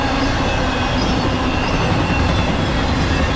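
A BNSF high-priority westbound Z freight train, carrying mail and UPS trailers, rushes past at 70 mph with a loud, dense, steady roar of wheels and rail noise close by.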